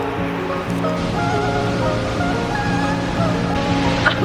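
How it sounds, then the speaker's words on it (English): A waterfall carrying a heavy flow of water roars steadily throughout, a dense unbroken rush heard from fairly close during a camping safari. "but there's a lot of water on the falls"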